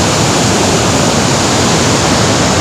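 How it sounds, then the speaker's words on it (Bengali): Bhatinda Falls sends a loud, steady roar of rushing water close by, a dense unbroken wash of sound with no voices. "আমার পিছনে এই পাশ দিয়েই জলটা নিচে চলে যাচ্ছে যে দামোদর নদে মিশেছে"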